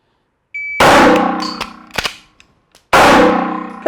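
Two loud pistol shots fired during a tap-rack malfunction clearing drill, with a faint beep before the first, sharp mechanical clacks of the slide being racked in between, and a long ringing decay after each shot.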